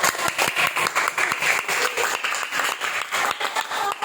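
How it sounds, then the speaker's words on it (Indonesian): Classroom applause for a story character, a burst of many hands clapping steadily and fairly close throughout, with no talk over it. "Kasih tepuk tangan dulu untuk tokoh"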